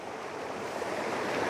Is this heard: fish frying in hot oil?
no